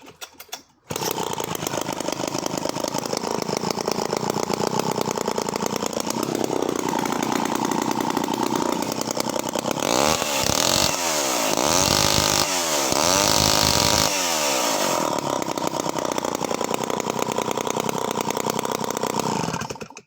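A vintage Homelite C5 77cc two-stroke chainsaw engine runs loud and close, buzzing steadily at idle with a few brief revs in the middle before settling back.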